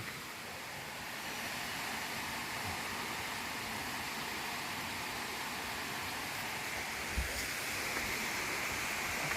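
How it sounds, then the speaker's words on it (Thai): Pang Sida waterfall sends up a soft, even rush of water from some distance, constant and fairly faint, with a brief knock near the end. "น้ำตกปางสีดา"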